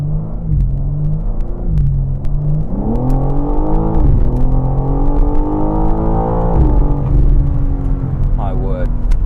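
A BMW M4 Competition xDrive (G82) engine growls and accelerates through several gear shifts, its pitch climbing and dropping, heard from inside the car with a voice talking over it.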